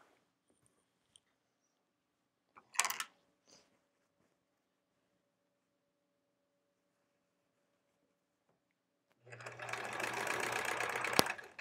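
Home sewing machine stitching quilt pieces for a pieced quilt back, a steady loud mechanical whir running for a couple of seconds near the end after mostly quiet handling sounds.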